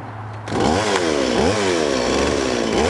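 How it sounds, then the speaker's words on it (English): A chainsaw roars to life after a short quiet lead-in, then revs loud and close with rising and falling throttle surges, used by a chainsaw sculptor for rough-carving wood. "I think I'll crank the saw up and make a little sawdust"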